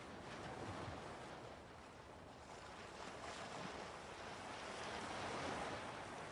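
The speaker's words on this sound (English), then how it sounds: "That's waves crashing on the beach of Utah. That's right. They have added ambient sound of waves." Steady ambient surf of waves breaking on the Utah beach in a WWII strategy game, a continuous broadband wash that swells gently, loud and close with no talk over it.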